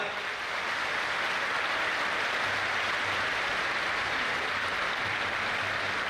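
Audience at a university youth festival opening ceremony clapping loudly and steadily, a dense, sustained burst of applause filling the room.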